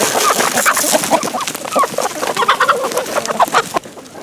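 Backyard homestead chickens cluck and chatter close by in a busy, overlapping flurry of short calls that goes on without pause.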